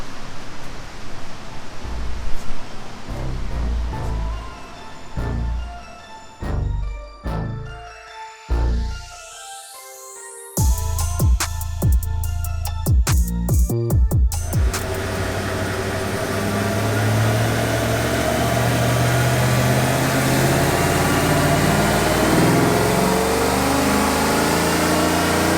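A 2015 Chevrolet Silverado V8 with a Stage 2 cam, ported heads, long-tube headers and Magnaflow exhaust revs in short bursts on a dyno, then climbs into a loud sustained wide-open pull that holds steady to the end.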